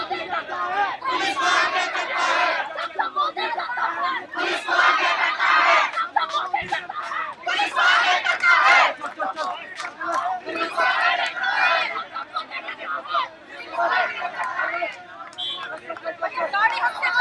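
A large protest crowd fills a road with loud, continuous chanting and shouting in surging waves, dense voices overlapping throughout.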